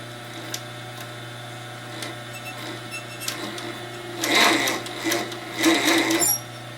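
Sewing machine stitching a croc bag, a steady low hum with faint clicks that builds into two louder bursts of rapid stitching near the end.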